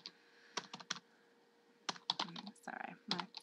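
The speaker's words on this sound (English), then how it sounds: "my slow typing here" Slow typing on a computer keyboard, several separate bursts of key clicks with pauses between them, close and fairly quiet with no talking.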